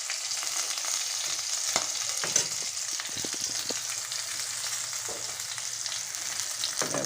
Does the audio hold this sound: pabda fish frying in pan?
yes